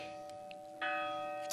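A church bell rings during a Holy Week procession in Zamora, its steady sustained tone sounding moderately near and growing fuller partway through, with faint background noise from the street.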